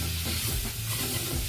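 Spice powders (turmeric, chilli, coriander, garam masala, pepper) stirred into hot oil for chicken masala, giving a steady close sizzle with scraping stir strokes throughout, no talking.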